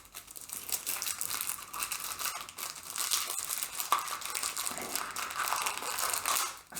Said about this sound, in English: The now familiar rustling of me getting the stand out.